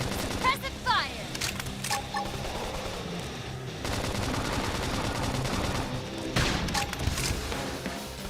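Suppressive gunfire in Xenoblade Chronicles X, rapid bursts of automatic shots with sharp impacts in a combat scene, mixed with game sounds and voices talking.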